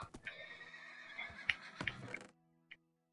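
A horse in a video game gives a loud whinny, a shrill rising-and-falling neigh lasting about two seconds, followed by silence and a faint short tail.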